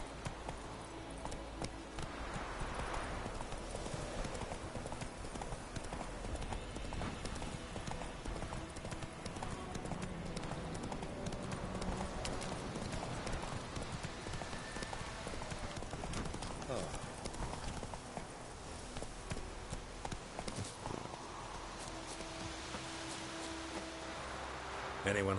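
Hooves of the horse Roach clatter in a quick, rhythmic clip-clop as it gallops across video game terrain, steady and close, while a voice talks over it at times.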